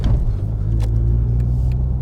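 A modified Seat Leon Cupra R 1.8T BAM 225 engine pulling hard under acceleration, a loud, close, deep rumbling drone with a steady low growl heard from inside the car.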